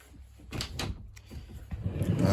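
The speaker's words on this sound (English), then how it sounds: "You got a little sliding door right here." Small sliding door in a travel trailer bedroom, a 2021 Aspen Trail 2550BHS, rolling along its track in a few short scraping strokes close by, ending in a louder rumble.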